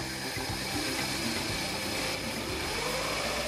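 A Peugeot TU5J4 16-valve engine from a 1996 106 S16 or Saxo VTS, with a pressure gauge fitted for an oil pressure check, runs at a steady, loud idle with a dense, constant drone.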